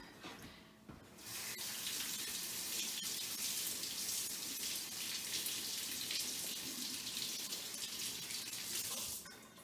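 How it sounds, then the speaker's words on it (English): A kitchen tap runs steadily for hand washing, a close, even rush of water that starts after a second and stops near the end, with no talking over it. "I'm gonna wash my hands."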